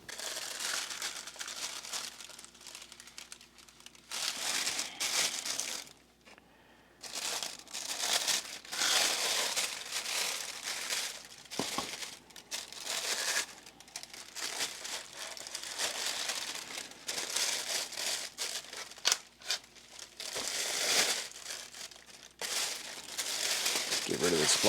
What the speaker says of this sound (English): Get rid of this plastic.